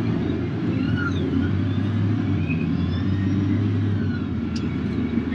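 A Cat wheel loader hauls material from a stockpile toward a truck, giving a steady low engine rumble that stays fairly quiet and continuous throughout, with no voices.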